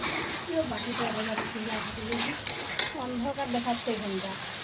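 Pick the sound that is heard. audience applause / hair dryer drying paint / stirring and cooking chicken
stirring and cooking chicken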